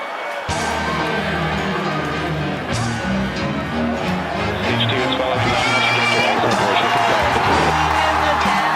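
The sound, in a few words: crowd cheering in a launch live stream audio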